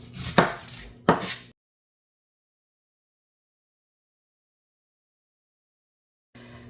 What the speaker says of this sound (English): I'm just going to roughly chop up an onion